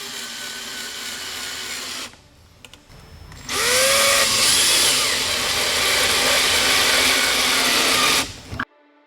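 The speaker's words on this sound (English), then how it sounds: "We'll use 4 pocket hole screws to do that." Pocket hole screws driven with a power drill to fix a wooden table skirt to the tabletop, heard as two short bursts and then a long, steady, loud whirring drive that stops abruptly, with no talking.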